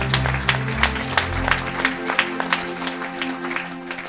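Church congregation applauding and cheering for Jesus during a French-language service, a dense wash of clapping with bright claps standing out over a sustained organ or keyboard chord, loud and close throughout.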